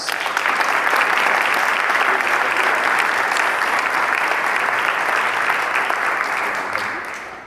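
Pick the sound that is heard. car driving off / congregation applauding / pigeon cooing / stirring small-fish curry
congregation applauding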